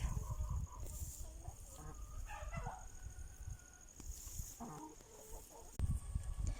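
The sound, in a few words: chickens clucking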